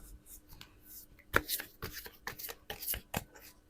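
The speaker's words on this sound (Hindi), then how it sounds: "मैं इनकी भावनाओं के लिए कुछ कार्ड्स ज़रूर निकालना चाहूँगी" Tarot cards are shuffled and drawn with quick crisp riffles and sharp slaps in irregular bursts, close and fairly quiet.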